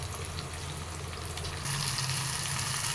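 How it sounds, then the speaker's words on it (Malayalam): Fish with curry leaves fries in a pan over a medium flame, giving a steady close crackling sizzle that grows a little louder partway through, with no voices. "ഇനി നമുക്കിതൊരു മീഡിയം ഫ്ലെയിമിൽ തിരിച്ചു മറിച്ച് വിട്ട് വേവിച്ചെടുക്കാം."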